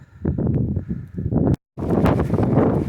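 Gusty wind in the alpine zone just below a mountain summit, with Whiteface ahead, buffets the microphone in a steady broadband rush. It cuts out briefly midway, then resumes just as strong.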